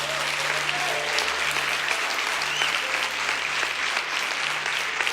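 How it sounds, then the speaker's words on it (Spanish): Church congregation applauding during a sermon, loud continuous clapping from many people with a low hum underneath, steady for the whole stretch. "¿Cuánto le dan un fuerte aplauso a Jesús?"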